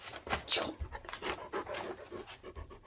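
A dog whimpers and pants close by, wanting to go out, in a run of short breathy whines and soft snuffles beside a weaver working on ply-split weft.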